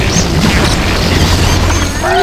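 Loud booming bomb blasts from the video game Skylanders Spyro's Adventure, mixed with game effects and a voice talking over them.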